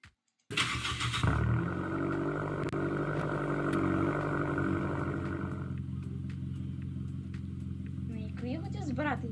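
Car engine in the Roblox video game, a loud sustained motor drone with a revving rise near the end, while a person talks over it.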